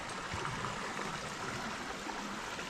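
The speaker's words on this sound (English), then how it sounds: "we have come out right on top of the waterfall" A waterfall roars in a steady, dense wash of rushing water, heard close and continuous with no voices over it.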